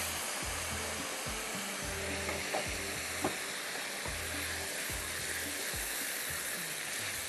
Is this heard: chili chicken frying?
yes